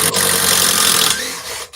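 A Bosch Bulldog rotary hammer drill runs at close range, a loud, steady motor whine with a rough buzzing edge that eases off and cuts out near the end.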